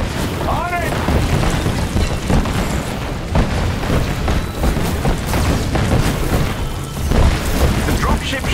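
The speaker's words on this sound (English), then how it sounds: "Their artillery's targeting you." Artillery shells burst around Iron Man in the Avengers video game, heavy booms and rumbling impacts layered over continuous battle noise, with voices talking throughout.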